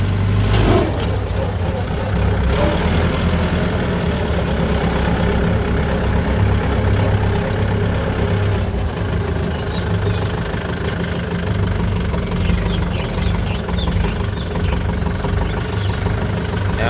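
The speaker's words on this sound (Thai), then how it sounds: "เดี๋ยวเราลองมาสตาร์ทเครื่องยนต์เคลื่อน4ล้อนะครับทุกท่าน" A Kubota L5018 four-wheel-drive tractor's diesel engine idles loudly and steadily, with a low, even chugging throughout and a brief clatter near the start.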